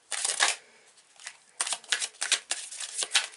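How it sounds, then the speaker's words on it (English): Tarot cards being shuffled by hand in several quick bursts, crisp riffling and flicking close to the mic with short pauses between, and no speech over it. "I'm going to pull another card for that."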